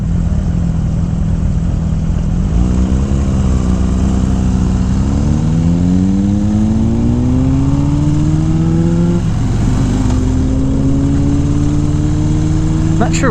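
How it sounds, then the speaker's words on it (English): A Suzuki GSX-R sport motorcycle with an aftermarket exhaust revs loudly and close, its pitch rising and falling through several throttle blips before settling. "Not sure what exhaust MotoKari has on her GSX-R, but I like it."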